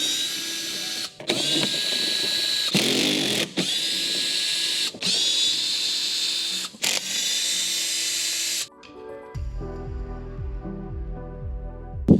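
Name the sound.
power tool removing T25 screws from Porsche 911 wheel well liner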